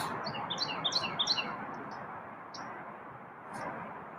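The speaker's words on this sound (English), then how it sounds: "Bunch of birds around this morning." Birds chirp outdoors in the morning, a cluster of quick bright tweets near the start followed by a few scattered calls over a steady low background hum.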